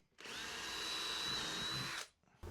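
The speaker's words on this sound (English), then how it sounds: "I try to be as careful as I can by drilling pilot holes and using good screws" A power drill whirs at high speed drilling pilot holes in wood, one continuous burst of about two seconds, starting and stopping abruptly, close up with no talking.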